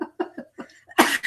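Person coughing at close range: a short series of rough, voiced bursts followed by a louder, breathy burst at the end, with no speech around it.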